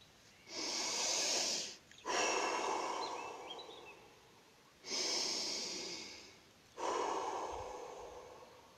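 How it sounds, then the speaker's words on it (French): Four slow, deep breaths during an outdoor relaxation exercise by a lake, each a long airy inhale or exhale separated by short pauses, close and fairly soft with no talk. "vous faites 3 grandes respirations"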